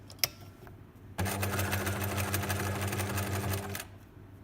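A sewing machine runs continuously for about two and a half seconds, stitching across the bottom of a buttonhole on a wrap skirt. The hum is steady and close, and there is a brief click just before it starts.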